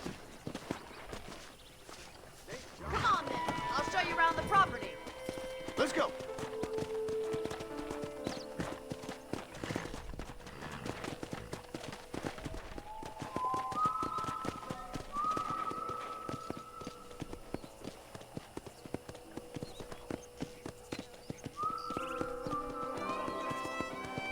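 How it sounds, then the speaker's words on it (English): Steady hoofbeats clip-clop at a walking pace in Red Dead Redemption, with a horse's whinny early on and soft melodic tones playing behind. "I picked out a fine horse for you."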